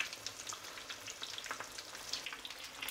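Crispy chicken frying in a pan, a steady dense sizzle with fine crackling pops running evenly throughout, close and moderately loud with no voices.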